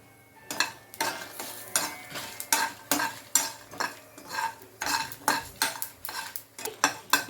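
Whole spices, cinnamon, cloves and cardamom, with cashews and almonds being stirred in a pan: a steady run of metallic spoon scrapes and clinks against the metal, close and rhythmic, with only a faint frying sizzle beneath.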